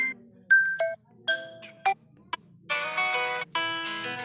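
A preinstalled ringtone plays on a Xiaomi Poco F1 phone as a soft sequence of bright chiming notes, first in separate plinks, then a denser shimmering run, with no talking over it.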